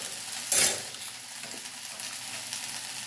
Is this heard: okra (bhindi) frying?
yes